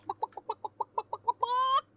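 A chicken clucks in a quick run of about ten short, evenly spaced clucks, then ends on one longer drawn-out squawk. The sound is close and clear over a faint low hum, with no talk.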